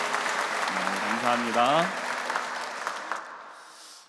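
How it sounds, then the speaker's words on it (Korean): A church congregation applauds in welcome during a Sunday service with steady, moderately loud clapping. Someone speaks briefly over the applause before it tapers off. "박수로 환영합니다"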